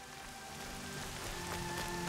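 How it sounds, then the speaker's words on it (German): Heavy rain pours in the video game Horizon Zero Dawn as a steady, dense hiss of drops that holds evenly throughout, fairly soft in level, with no voices over it. "Und das regnet ja schon wieder wie aus Eimern."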